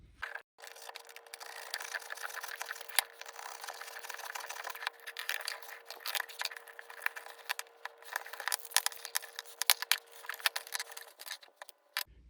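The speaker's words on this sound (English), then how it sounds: "So let's go ahead and cut everything open." A Mann oil filter being cut open in a teardown, a quiet, continuous grinding and rasping of a cutting tool through the steel canister with a few sharp clicks, steady and close without speech.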